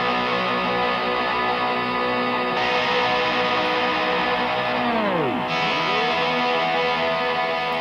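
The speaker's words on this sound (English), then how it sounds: "if you turn the delays the fastest possible, and then you press and hold a button, it'll start to repeat forever" A Strymon El Capistan tape delay pedal loops a guitar chord endlessly at its fastest delay setting, a dense wash of repeats that warbles and dives in pitch as the tape speed is slowed and brought back up, glitchy and unaccompanied.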